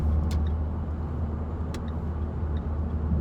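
A Renault Sandero RS in sixth gear pulls hard from about 60 to 80 km/h, a steady close engine and road drone with a couple of faint clicks, no voices.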